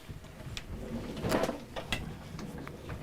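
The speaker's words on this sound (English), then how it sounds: "Just bear with me while I have a look in my drawers." Drawers slide and rattle open during a hurried search at home, a scraping burst mid-clip framed by small knocks and clunks, with no talking.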